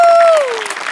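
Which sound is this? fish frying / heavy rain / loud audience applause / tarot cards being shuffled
loud audience applause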